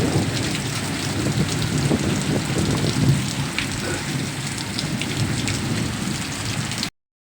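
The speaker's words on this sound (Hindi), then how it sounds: "नवगढ़ में अचानक बारिश आ गया" Sudden rain shower pouring down in Navagarh, a steady dense hiss of rain on surfaces throughout, loud and close, with low rumbling underneath.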